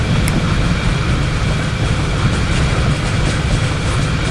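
A train runs in a train driving video game, with a loud, continuous rolling rumble and faint rhythmic clatter that stays even from start to finish.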